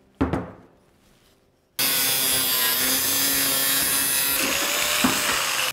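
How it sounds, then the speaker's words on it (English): A 4-inch angle grinder cuts threaded rod: a brief knock and spin-up, a pause, then a loud, harsh, continuous high-pitched grinding whine for about four seconds. "Now, I'm going to cut this booger rod with a 4-inch grinder"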